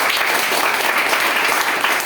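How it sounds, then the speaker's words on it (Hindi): Loud, dense audience applause fills the whole stretch, a steady wash of many hands clapping at an event, close and continuous with no talk over it. "प्लीज अपना आपके लिए जोरदार ताली हो जाए।"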